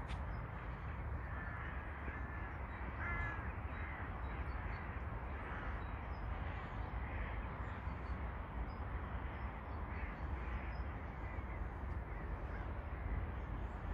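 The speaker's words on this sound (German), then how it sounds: "Da sammeln sich jetzt, glaube ich, alle Krähe aus der Gegend." A flock of crows gathering over allotment gardens, their distant caws scattered across a steady, dense outdoor rumble that persists throughout.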